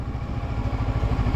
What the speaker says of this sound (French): On va se servir du frein moteur là.